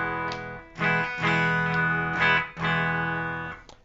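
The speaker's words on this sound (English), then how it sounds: "I am of course playing my Fender Stratocaster through the pedals" A Fender Stratocaster electric guitar, played clean through pedals, rings out sustained chords with rich harmonics, changing chords several times, loud and close with no voices.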